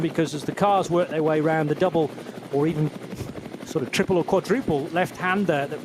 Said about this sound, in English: you can hear the helicopter blades in the background